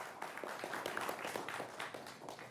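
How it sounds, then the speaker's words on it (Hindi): A studio audience at a televised panel debate gives quiet, steady applause to welcome the guests, a dense patter of many hands clapping at a distance. "तालियों के साथ इन सबका अभिनंदन करिए"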